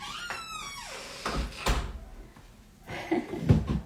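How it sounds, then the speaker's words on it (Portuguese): A door swings and shuts with a muffled thud, followed by shuffling and a couple of soft knocks nearby. "Deixa eu só fechar a porta aqui, gente"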